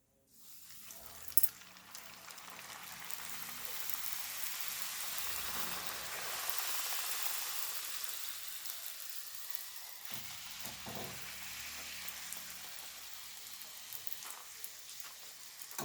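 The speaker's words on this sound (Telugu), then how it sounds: "ఇలా కాల్చుకోవాలి నూనె బాగా వేడి ఉండాలి పూరికి వేడిగా ఉంటేనే బాగా వస్తాయి పూరీలు" Puris fry in well-heated oil with a steady, dense sizzle that swells after a soft start and continues for several seconds, close and moderately loud, with one brief crackle near the start and no talk.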